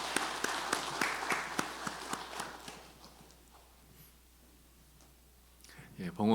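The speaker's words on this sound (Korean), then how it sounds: "여러분 축하하는 마음으로 박수해 주시기 바랍니다." A church congregation at a Sunday worship service applauds in a brief patter of scattered claps that thins out after about three seconds, leaving a quiet room before a voice returns.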